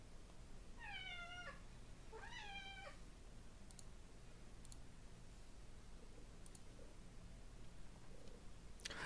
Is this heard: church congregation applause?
no